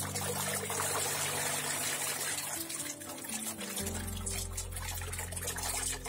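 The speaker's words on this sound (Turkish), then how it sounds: "Öncelikle zeytinleri güzelce bol suyla yıkayıp ilacından ve pisliklerinden" Olives being washed with plenty of water, a continuous trickling and pouring stream that splashes steadily close by, deepening into a heavier rushing fill toward the end.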